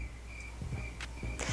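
Crickets chirp in a steady sequence of short, evenly spaced pulses, fairly close and alone with no talking, a classic night-insect sound effect.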